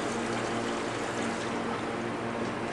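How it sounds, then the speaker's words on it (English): Alcohol fuel mixture pouring into the fuel tank of a gasoline mini bike, a steady close liquid stream with a continuous splashing trickle from start to finish. "we are going to pour this mixture that we just showed you into the fuel tank"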